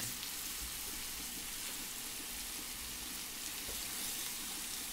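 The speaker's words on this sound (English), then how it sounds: "Let's see if we can get these to stand up and sear some of that fat as well" Lamb fat searing in a hot pan makes a constant soft, hissing sizzle, even and fairly quiet, with no voices over it.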